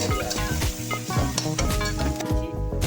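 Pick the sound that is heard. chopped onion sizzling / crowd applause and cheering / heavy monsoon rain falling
chopped onion sizzling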